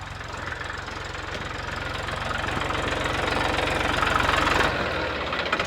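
A tractor engine idles close by with a steady, rhythmic low knocking and rattling vibration that holds continuously, swelling slightly before easing near the end.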